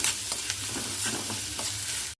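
Chopped onions frying in hot oil with turmeric powder, with occasional stirring: a steady, soft sizzle running continuously under light scraping strokes, heard alone with no talk.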